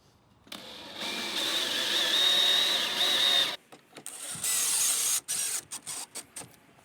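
A screw is driven into oak with a power driver while building a stool: a close, steady motor whine for about three seconds, then several short, sharp bursts as the screw is seated.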